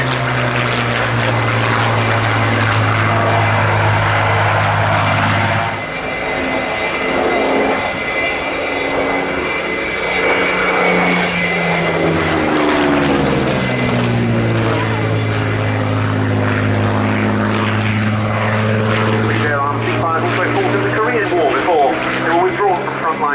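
A propeller fighter powered by a Rolls-Royce Griffon engine flies a display at the Yeovilton International Air Day, its deep droning engine note sweeping in pitch as it passes, with a commentator talking over it.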